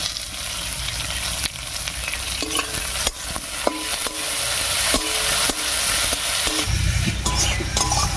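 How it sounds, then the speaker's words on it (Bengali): Onion, tomato, ginger, dried chillies and garlic fry in oil for an egg curry, a steady sizzle broken by sharp spoon scrapes and taps against the pan. "তেলের উপর সব মশলাগুলো দিয়ে একটু নাড়িয়ে নিয়েছি"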